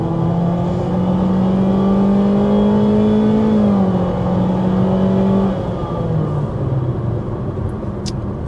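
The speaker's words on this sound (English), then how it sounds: "that was an acceleration up to about 50 miles an hour" A 2026 Honda CR-V hybrid with a 2-liter four-cylinder engine and two electric motors accelerates to about 50 mph, its loud, close engine drone rising steadily in pitch, then easing back as the car settles.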